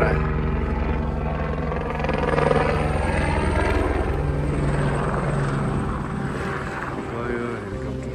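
A helicopter flies overhead under cloudy skies with a loud, droning rotor thrum and a steady engine whine that swell and then slowly fade, while voices can be heard faintly beneath it.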